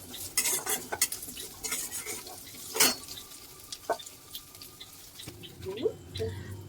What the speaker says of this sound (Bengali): টুমো করে কেটে রাখা যে আলু ছিল সেগুলোকে দিয়ে দিতে হবে দিয়ে এবার সেটাকেও ভালো করে নেড়ে নিতে হবে